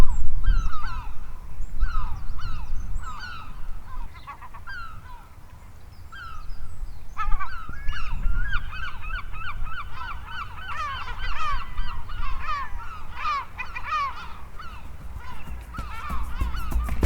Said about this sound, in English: Might as well try and capture this absolute cacophony of birds as well.